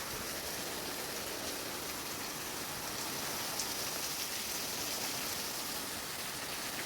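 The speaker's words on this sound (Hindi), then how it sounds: "अभी देखिए ज़ोरों शोरों से बारिश होने लगी है" Heavy rain pours steadily during a storm, a dense, even hiss of downpour with no breaks, close and moderately loud, and no voices over it.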